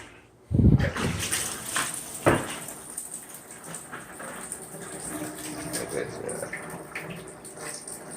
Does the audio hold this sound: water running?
yes